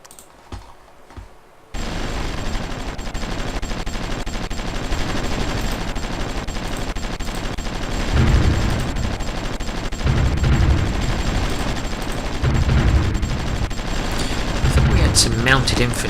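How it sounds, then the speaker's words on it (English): Bombing of a village in the strategy game Supreme Ruler Ultimate: dense, continuous rattling bursts of gunfire-like explosions that swell in loud waves over a steady battle din, with a quieter start before the barrage begins. "we are bombing their village out"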